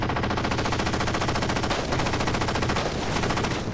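SAW machine gun in Halo 4 firing a long unbroken burst of rapid, loud, evenly spaced shots from close range, with no speech.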